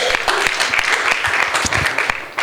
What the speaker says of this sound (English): Can we clap our hand?